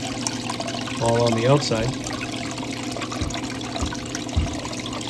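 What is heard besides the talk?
water flowing through a gold cleanup cone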